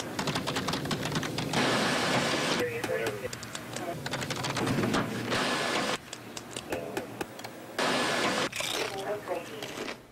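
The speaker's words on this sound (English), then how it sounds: "the hum of the printer" Continuous mechanical whirring and clattering from an office printer, steady and fairly loud, with brief pauses and restarts; faint voices are mixed in.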